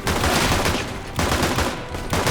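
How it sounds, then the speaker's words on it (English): Rapid bursts of gunfire in the video game Counter-Strike, loud and close, with dense repeated shots in two clusters separated by a short gap. "Sorry, I was shooting my own teammate."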